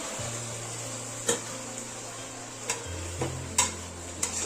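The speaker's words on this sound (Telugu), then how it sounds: "ఇవన్నీ రైస్ వేసిన తర్వాత మొత్తం అంతా మనము అడుగు నుంచి అడుగంటకుండా బాగా మనము కలుపుకోవాలండి" A spoon scrapes and taps through vegetable biryani rice mixed with vegetables and spices in a pot, giving a few scattered soft clicks over a faint steady background hum.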